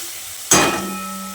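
A single sharp clatter of a spoon against a pan while stirring a spice masala with salt and sugar, followed by a steady sizzle and a faint hum that lingers afterward.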